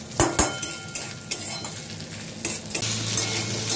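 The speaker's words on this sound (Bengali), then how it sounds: "ওই তেলে দিয়ে আমি একটু আলুটা হালকা ফ্রাই করে নিচ্ছি" Potatoes shallow-fry in oil for a Bengali vegetarian potato and paneer dish, with a steady close sizzle and repeated spatula clinks and stirring scrapes against the pan.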